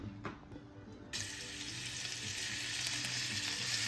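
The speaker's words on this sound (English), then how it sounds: "And I will start sauteing my meat." Beef chuck sautés in a pot over medium-high heat for a Guinness stew. A faint early crackle swells into a steady hiss of frying after about a second.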